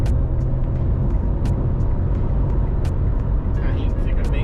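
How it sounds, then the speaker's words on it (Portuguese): Citroën C3 Aircross 2024 SUV engine revving up in Sport mode, a steady loud low rumble of road and engine noise from inside the cabin with a few faint clicks, no talking. "Pisado aqui no acelerador, você não precisa de pisar tanto e ele já responde bem mais rápido"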